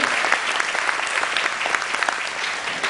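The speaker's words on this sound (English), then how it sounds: "have a round of applause for girls and members." An audience claps in sustained applause for the girls and members of a performing group at a concert, a dense crackle of many hands that carries on evenly with no one speaking.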